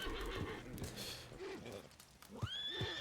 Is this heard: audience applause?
no